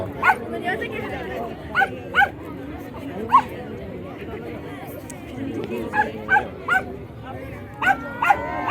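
A working dog barks and yips in short, loud bursts spaced every second or so while signalling an injured handler during a rescue exercise, with whimpers and voices in the background.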